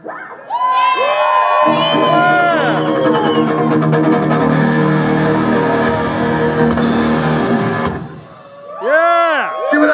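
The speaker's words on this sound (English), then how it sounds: "So if you guys got some cheering to do, I suggest you guys get it now." A concert crowd at a Super Suckers rock show cheers loudly and steadily, with shrill whistles and whoops rising over the roar, a short dip near the end, then fresh whoops.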